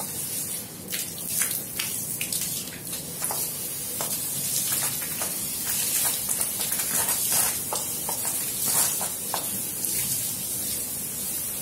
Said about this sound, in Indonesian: Semprotnya begini ya, pakai selang ya.